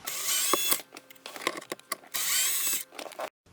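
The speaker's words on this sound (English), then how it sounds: "there are 2 additional Phillips head screws located right up here. We'll go ahead and remove those." Phillips head screws being removed from the center console of a 2007-2014 GM truck, heard as bursts of a cordless driver whirring, with clicks and handling noises between them, close up.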